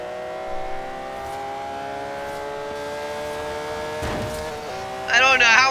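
A Porsche engine drones in Forza Horizon 3 while racing an Aston Martin, a steady tonal hum that climbs in pitch. A brief shift and a louder, rougher revving burst come near the end.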